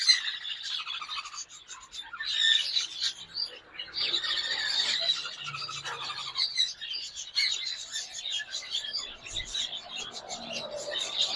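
Rainbow lory parrots, a breeding pair, give harsh, screechy squeals and chatter over several seconds, fairly close, with a rough rasping texture.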